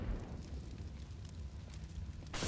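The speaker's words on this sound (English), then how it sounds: "Early grenades on Banana." Grenades in Counter-Strike on the Inferno map give a sustained, rumbling, fiery roar across the whole stretch, and a sharp burst breaks in at the very end.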